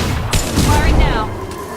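Gunfire in Mass Effect 2 combat, a few loud booming shots in quick succession with a bright crack, and voices talking through the action.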